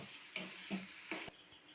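Rohu fish fingers in a pan give off soft bursts of sizzling and stirring, heard as three or four brief faint surges over a quiet background.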